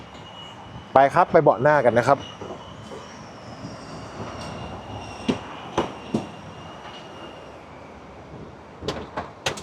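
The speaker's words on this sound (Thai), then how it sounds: "ขออนุญาตนะครับ เปิดประตูหน่อยนะครับ" A door is opened on a 2023 Mercedes-Benz Vito 119 CDI Tourer Select van, heard as a few sharp latch and handle clicks after someone speaks briefly, followed by more faint clunks in a quiet interior.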